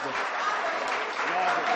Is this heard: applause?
yes